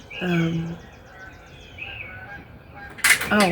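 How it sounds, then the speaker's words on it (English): A few distant geese honk faintly over soft outdoor background noise, with a louder burst of calls near the end. "that's geese or something"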